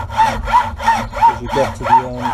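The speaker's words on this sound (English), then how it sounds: "just hold the weight of the hacksaw, turn it slightly" A hacksaw cuts through a carbon fibre shaft in steady back-and-forth strokes, a loud, rhythmic rasp with about six even passes and a clear bite on each stroke. Someone speaks briefly over it.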